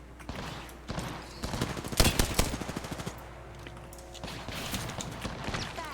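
Rapid bursts of gunfire crackle through a shooter game firefight, clustered volleys peaking in the middle and trailing off, moderately loud with faint talk.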